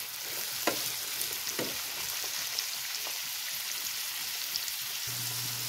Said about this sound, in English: Go ahead and put in the whites from the bok choy. Just give this a little toss.